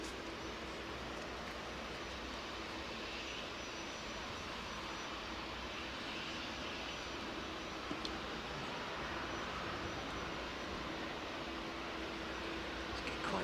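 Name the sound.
freighter aircraft at East Midlands Airport at night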